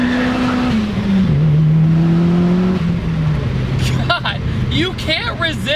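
Turbocharged 300 HP Chevy Sonic accelerating hard, its engine droning loud and steady as it climbs through the revs, with a brief dip at a gear change, and someone talking over it toward the end.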